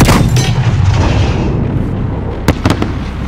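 Explosion in Call of Duty: Modern Warfare, a loud booming blast with a rumbling tail that fades, followed by a few sharp cracks like gunfire near the end.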